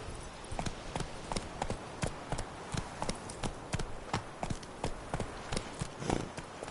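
Geralt's horse Roach trots in the video game Witcher 3, with a steady, even clip-clop of hooves repeating at a brisk rhythm, fairly soft and alone.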